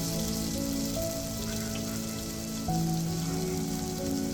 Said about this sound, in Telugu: అందులో వేసుకొని బాగా వేగనివ్వాలి